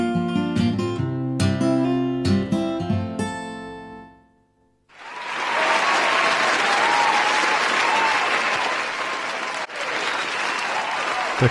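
A live song ends with a piano-like musical tail, then after a short pause an audience breaks into loud, sustained applause that continues steadily to the end.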